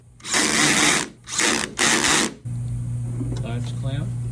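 A power ratchet driving T30 Torx screws into the rear door latch of an FJ Cruiser, three loud whirring bursts close up, then a steady hum with faint clicks.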